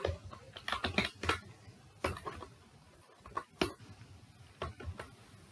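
Fingers type on a computer keyboard while entering an Excel formula, a quiet, close run of irregular clicking keystrokes in short bursts with pauses and no talking.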